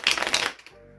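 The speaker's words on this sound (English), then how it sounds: "shuffle" A deck of playing cards shuffled during a card trick demonstration, one quick riffling burst of crisp flutter lasting about half a second, close and clear, followed by near quiet.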